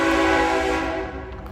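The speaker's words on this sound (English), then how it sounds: "Sorry about the train." A train passes close by, a loud sustained rumble with steady tonal horn-like drone and rail noise that slowly fades toward the end.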